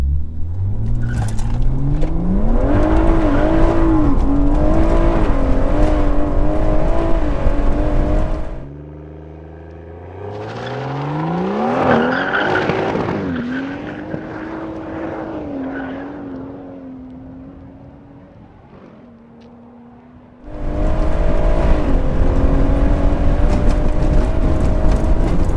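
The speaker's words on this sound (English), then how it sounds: "the M140i fights for traction all the way" A 650 bhp BMW M140i launches on a quarter-mile run, fighting for traction, its engine roaring loudly through rising gears, then briefly quieter before surging back at full volume.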